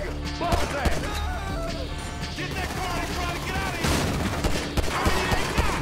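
Gunfire in a Grand Theft Auto 5 shootout, with rapid bursts and single loud shots cracking over a dense layer of game music and effects, close and continuous throughout.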